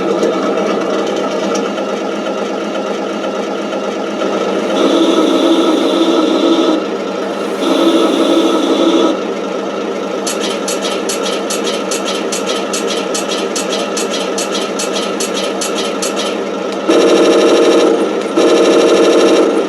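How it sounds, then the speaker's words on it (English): A Panther tank's 12-cylinder Maybach engine starts and settles into a loud, steady idle, with a couple of brief surges and a long rapid mechanical chatter partway through, alone without talk. "Even this should be I think the 12-cylinder Maybach."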